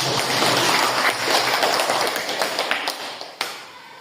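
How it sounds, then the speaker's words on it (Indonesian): An audience clapping at a meeting, a dense even patter of many hands that fades gently toward the end, with a few louder separate claps near the close. "Tepuk tangan dulu"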